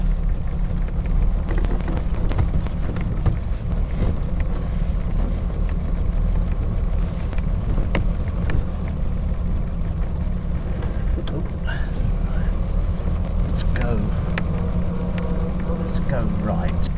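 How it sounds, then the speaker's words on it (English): An AC Buckland car that needs a tune-up is driven along, its engine giving a constant, loud low rumble while the bodywork rattles and clicks throughout. "Sorry about the rattling from the bodywork."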